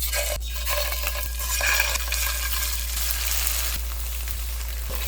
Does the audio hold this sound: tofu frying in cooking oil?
yes